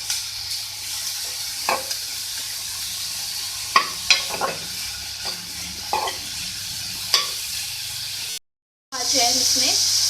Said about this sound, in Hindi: एक मिनट इसको आप इसमें फ्राई कर लें लहसुन के साथ।